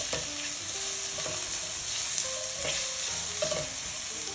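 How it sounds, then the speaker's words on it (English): Diced onions sizzle steadily in hot oil in a pan while a utensil stirs them, with a continuous frying hiss and intermittent scraping strokes close by. "I'm gonna add the diced onions. All right. Give it a quick stir here."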